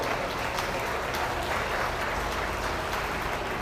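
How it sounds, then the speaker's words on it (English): Steady, dense applause from an audience at a beef showmanship event, a continuous wash of many hands clapping at even loudness with no talking over it. "let's give them all a round of applause for working hard."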